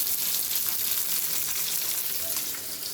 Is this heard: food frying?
yes